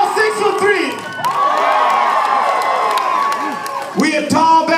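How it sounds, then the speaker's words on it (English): A live concert crowd at The Observatory in Orange County roars, cheers and whoops loudly and continuously, with shouts rising over steady applause throughout. "I think that deserves some more applause."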